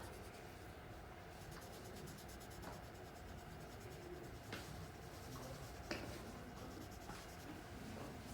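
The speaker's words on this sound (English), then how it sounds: "I'm going to start with my darker side for the drawing stump" Drawing stump rubbing graphite shading onto paper for a self-portrait, a faint, soft scratchy stroking in steady patches with a few light taps.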